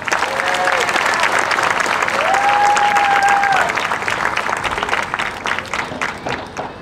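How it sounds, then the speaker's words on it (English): A crowd claps steadily throughout at the West Lampeter Fair Queen crowning event, with a few whistles riding over the dense applause before it slowly thins. "Please give our 2023 West Lampeter Fair Queen one more round of applause."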